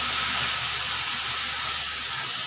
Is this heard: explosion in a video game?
no